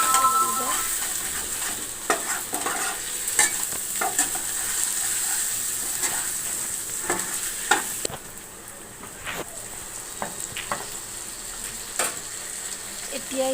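Potatoes frying with spices in a pan, a steady sizzle running throughout with frequent scrapes and clinks of a stirring spoon against the metal, close and moderately loud, no talking.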